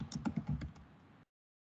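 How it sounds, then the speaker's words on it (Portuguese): A name is typed on a computer keyboard as a quick close run of soft key clicks lasting about a second, followed by silence. "Eu vou digitar o meu nome."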